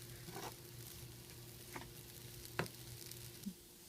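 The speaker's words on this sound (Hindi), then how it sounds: "फिर उसकी गुठली फोड़ लें और हल्की आंच में भूनते रहें जब तक कि मसाला सुनहरा ना हो जाए" Kachori dal and masala filling roasting on a low flame: a faint, steady frying hiss with a few sharp ticks and spoon taps scattered through.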